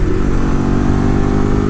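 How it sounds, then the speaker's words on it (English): Ducati 1098 Streetfighter motorcycle engine revving hard under way, a loud, steady, close mid-range roar with dense harmonics throughout, no talk. "it revs way farther out than you ever think it would"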